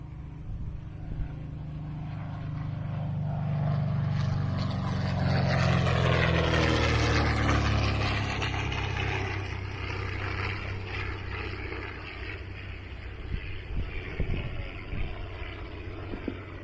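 A propeller plane, the Percival Mew Gull, roars past from a distance, its engine swelling to a loud peak midway with a falling pitch, then fading away.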